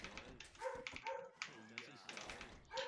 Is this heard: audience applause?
no